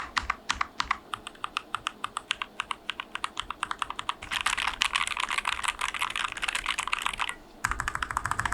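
Close typing on an Epomaker Carbon60 carbon fiber mechanical keyboard, with quick rhythmic key clicks that start steady and then speed into a dense flurry, broken by one brief pause, with no voices.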